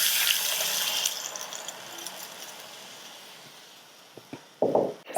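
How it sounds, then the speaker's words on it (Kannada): A glass of water poured slowly into a hot pan of fried asafoetida, a broad hissing rush that gradually fades, followed by a few sharp clanks near the end. "ಒಂದು ಲೋಟ ಅಷ್ಟು ನೀರನ್ನು ನಿಧಾನವಾಗಿ ಹಾಕಬೇಕು"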